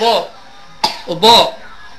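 Two or three short, sharp coughs close by, following a brief burst of voice, each one harsh and abrupt with a quiet gap between.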